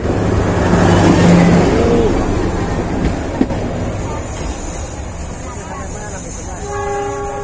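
Train arriving through a crowded market in East Java where stall tents sit right against the carriages, heavy rumble with horn toots near the end, people talking over the noise.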